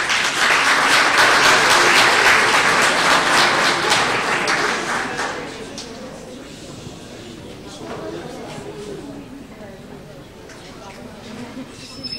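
An audience applauds loudly at an evening bullfight event, dense clapping that swells for about five seconds, then fades to scattered claps and crowd murmur.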